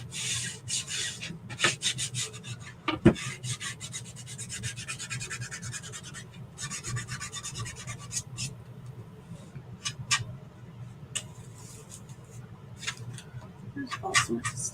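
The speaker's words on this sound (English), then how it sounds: "So now I'm just going to burnish it down." A Chalk Couture transfer is burnished down onto a wooden porch leaner tag with steady close rubbing and scraping strokes, continuous and fairly loud, with a few sharp knocks and no speech over it.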